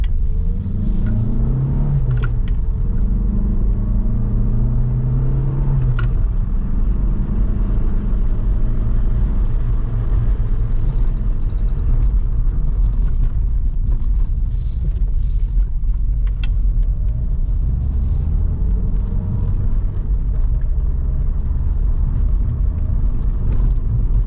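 A Cavalier Diplomat car driving, steady loud engine and road rumble throughout with low engine tones rising and falling as it slows under braking.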